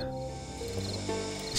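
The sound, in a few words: crickets chirping at night in video game 7 Days to Die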